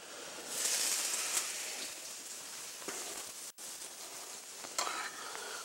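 Vegetables sizzle steadily in a hot pan with broadband crackling, broken by a few stirring scrapes and one brief dropout.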